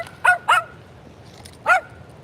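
A dog barks close by outdoors in snowy winter country, two quick sharp barks followed after a short pause by a third, loud and clear against a quiet background.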